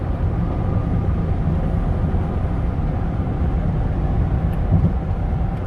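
A 2015 Ford Expedition EL Platinum with the EcoBoost engine cruises at 75 mph, giving a steady, unbroken low rumble of engine and road noise throughout, with no talking.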